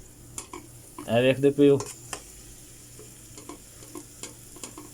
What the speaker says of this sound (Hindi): मैं जनाब प्याज रखे हुए ने, तो प्याज भी हुण बिल्कुल फुल तैयार होए पे ने।